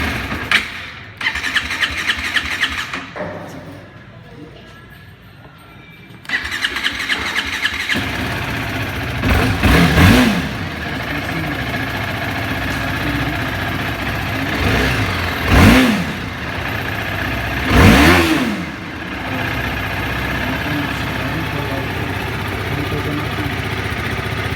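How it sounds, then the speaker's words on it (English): TVS Apache RR310 motorcycle with a loud exhaust cranks and fires up, then idles steadily close by with three sharp throttle blips, briefly quiet before the start. "So I'm gonna switch on the bike."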